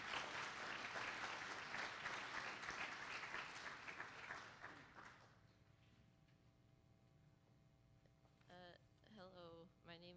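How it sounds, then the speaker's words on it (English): An audience applauds at a Minoru Yasui Day event, dense clapping for about five seconds that dies away into quiet room tone before a young voice begins speaking. "Let's give them a round of applause."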